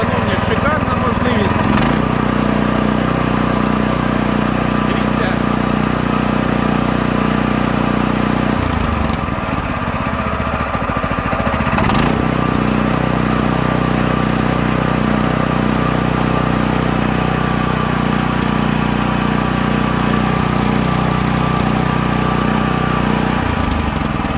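A small gasoline engine on a walk-behind tractor, a Weima W230F, runs steadily and loudly close by, a constant droning rumble that briefly dips midway, with some faint talk under it.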